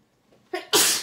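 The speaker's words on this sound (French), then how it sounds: "je vais éternuer" A single sneeze, close and loud, preceded by a short sharp inhale.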